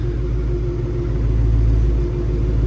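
A Whipple supercharged Mustang GT sits running with a steady, close, loud low rumble and no clear revving, holding an even idle throughout.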